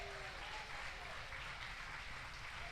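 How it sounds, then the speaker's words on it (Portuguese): Church congregation applauding together in a steady, continuous wash of clapping that stays fairly quiet and even from start to finish. "Aplauda o nome do Senhor."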